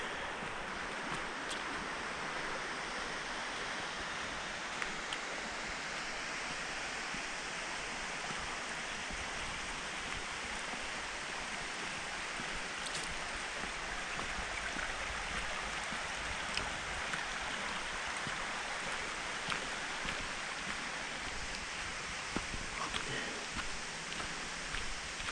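A waterfall roars in a steady, broadband wash of falling water, fairly distant and continuous throughout, with no voices.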